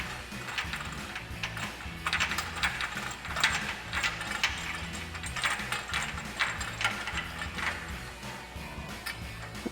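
A ratchet tightens anchor bolts on a Spike adjustable bed rack fitted to a Ford F-250 truck bed, with bursts of rapid clicking repeating close by.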